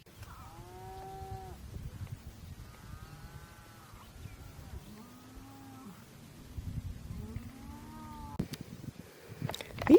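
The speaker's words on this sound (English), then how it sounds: "These cows are starting to get a little close." Several cows moo nearby, long low calls repeating every couple of seconds, with a rustling, windy outdoor background and a sharp knock near the end.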